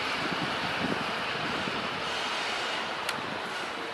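A CPTM 6211 locomotive rumbles toward the rail yard as a steady, wind-blown wash of train noise, heard from a distance with no talk.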